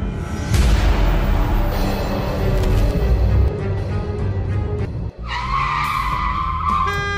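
Heard from inside a moving car, a loud, dense roar of engine and road noise fills the cabin almost continuously, with a brief dip and a steady higher tone near the end; no one speaks.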